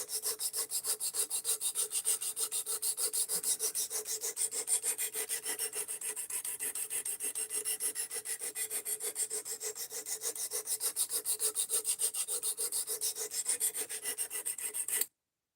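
A knife blade scrapes against a sharpening stone in quick, even back-and-forth strokes, a rhythmic raspy grinding that continues steadily and close, then stops abruptly, with no talking.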